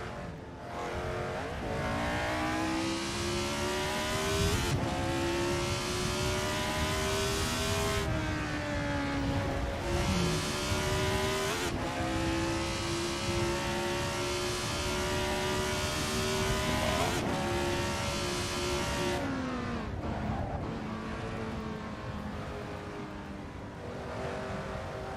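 A race car engine in Assetto Corsa revs hard through repeated gear changes, whining up and dropping with each shift over a long stretch of acceleration, loud and steady with no talk.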